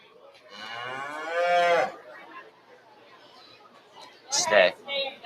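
Beef cattle moo loudly and close by at a county fair market beef show, one long drawn-out call followed later by a shorter one, with faint crowd chatter in the background.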